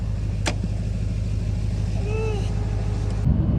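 Steady low engine drone from a lowered twin turbo Duramax diesel truck cruising along, with a constant rumble throughout and a brief rise near the end.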